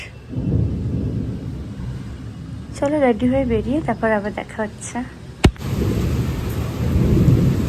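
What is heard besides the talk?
heavy rain with thunder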